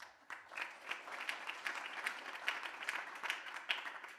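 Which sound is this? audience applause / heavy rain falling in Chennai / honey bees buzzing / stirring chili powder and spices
audience applause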